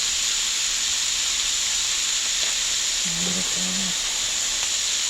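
Beef and mushrooms with Italian seasoning and basil sizzle steadily in a pan, a loud even frying hiss throughout, with a brief soft clatter near the end.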